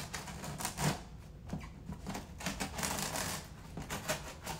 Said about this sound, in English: we're going to use scissors